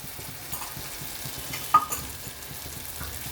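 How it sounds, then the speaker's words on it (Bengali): Chilli, turmeric and coriander powders are stirred and fried with onion and garlic for a prawn dish, with a low steady sizzle, soft regular spoon scrapes and one sharper clink. "আবার একটু নেড়ে নিতে হবে একটু ভেজে নিলে পেঁয়াজ রসুনের কাঁচা গন্ধটা চলে যাবে"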